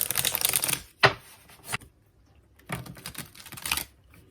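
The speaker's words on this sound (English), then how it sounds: "Just gonna shuffle, and then I'm gonna split the deck" Tarot cards being riffled and shuffled in a few quick bursts with short pauses between, close by and fairly soft.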